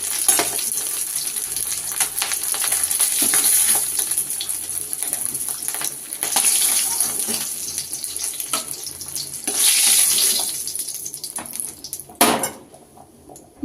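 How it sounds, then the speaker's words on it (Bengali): Cumin seeds frying in hot oil in a home kitchen pan make a loud, steady sizzle that swells and fades in waves across several seconds, with a brief clatter near the end and no talking. "জিরে ফোড়ন দিয়ে দিচ্ছি।"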